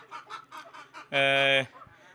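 A few soft clucks from native country chickens raised on a terrace lead into one loud, sustained squawk from a nearby hen, then quiet.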